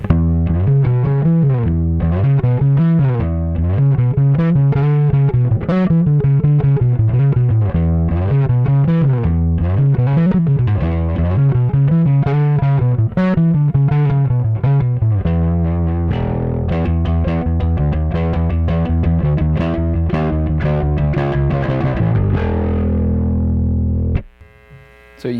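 A Rickenbacker 4003 electric bass runs through distortion with its vintage control off, giving a continuous, loud, gritty line of rapid notes that lasts for about twenty-five seconds before a sustained final note cuts off.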